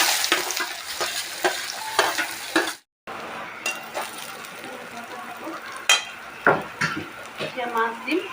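Oil heats and sizzles in a kadai, a crackling fry texture broken by the clinks and scrapes of a stirring spoon against the pan, with one brief dropout midway and no voices.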